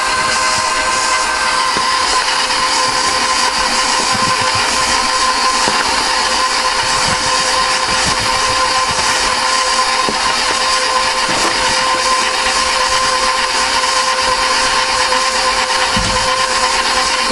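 An electric mixer beating almond shortbread dough made with butter and all-purpose flour, running as a loud, steady motor whir with a constant rattling hum for the whole stretch, alone without talk.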